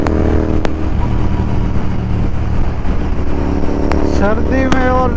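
Royal Enfield Continental GT 650 motorcycle fitted with a Red Rooster exhaust, riding steadily with a continuous engine drone and rumble and a few sharp pops near the end, with some wind.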